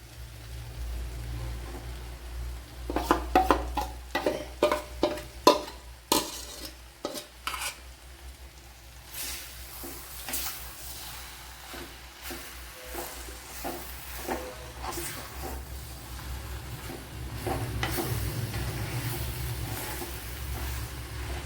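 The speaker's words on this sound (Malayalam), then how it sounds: "ഇതിലേക്ക് ഇനി അരച്ചു വെച്ചിരിക്കുന്ന അരപ്പ് ഒഴിച്ചു കൊടുക്കുക" Bitter gourd cooking in a pan as ground coconut paste is poured in, with a burst of stirring and utensil scrapes early on, then a steady soft sizzle and occasional stirring clatter.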